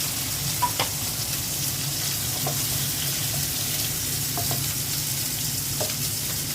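Eggplant and potato sauté in a pan with a little water for a hilsa fish dish, a constant close hiss and bubbling sizzle broken by occasional soft utensil taps.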